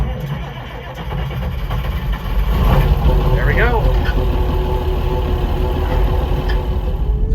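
A White 2-105 farm tractor engine turns over and settles into a steady, loud diesel idle, a rumbling drone that builds after a couple of seconds, with a brief spoken remark over it.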